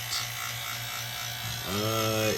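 A vacuum pump runs steadily while evacuating the air conditioning system of a 2004 Ford E350 with rear AC, a continuous motor hum with buzzing harmonics that rises in pitch near the end, heard alongside a voice.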